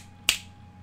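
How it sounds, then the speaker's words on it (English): One crisp finger snap rings out close and loud, with a short bright crack and quick decay over a faint steady hum. "I might have snapped my finger."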